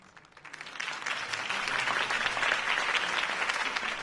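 Loud crowd applause in a video game swells quickly from a large crowd and holds steady, a dense wash of clapping with no voices standing out.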